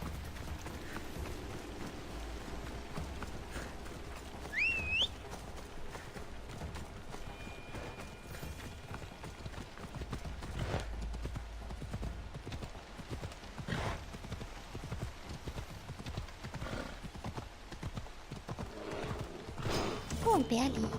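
Rhythmic clip-clop of a horse's hooves in the video game Assassin's Creed Odyssey, a faint, steady gallop beneath someone speaking German, with a brief whinny partway through.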